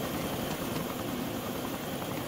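Helicopter in DayZ running steadily with a dense, continuous rotor and engine roar at close range, loud and unbroken throughout, with no talk over it.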